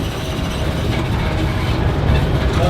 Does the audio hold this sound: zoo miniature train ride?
yes